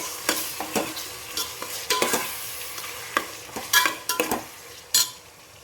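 Tomatoes sautéed and stirred in a pan for mutton biryani: a spoon scrapes and clatters against the pan in irregular strokes over a soft sizzle, close and fairly loud, with no talking.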